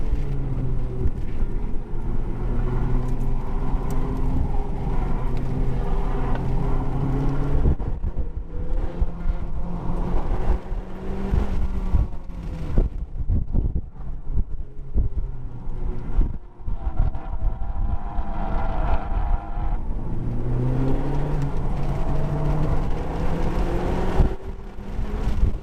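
A Honda Civic Type R FK8 laps a GridLife time attack track, its engine droning steadily from inside the car with wind rush, pitch rising and dipping through gear changes and corners.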